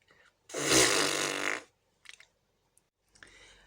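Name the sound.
giant fart sound effect in children's story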